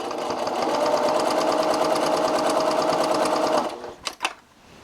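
A sewing machine runs steadily and loudly, stitching the lining of a fabric bow book sleeve at a quarter-inch seam, then stops and gives a few quick clicks.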